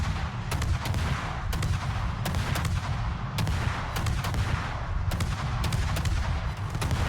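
Naval gunfire from the USS Burrows warship in a video game: a rapid series of loud, sharp cannon blasts in quick succession, close and booming, with short gaps and a continuous rumble between volleys.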